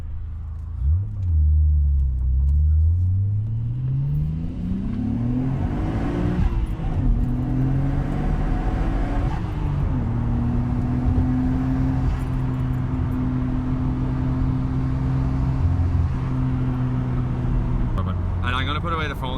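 A Nissan R33 fitted with Meister R coil-overs drives on Irish roads, its engine droning steadily from inside the cabin, revs climbing and shifting through gears before settling into a cruise, with someone talking over it.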